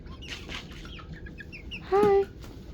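Young chickens about ten weeks old cluck softly close by, with a few brief calls and then a louder, drawn-out squawk near the end, over a low background hum.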